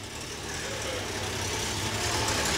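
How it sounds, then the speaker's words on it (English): Nissan race car engine running after an engine swap to replace one with a broken connecting rod, a steady low mechanical drone with broadband noise at a track, fairly loud and continuous. "He's trying to impress me that they actually got the motor running."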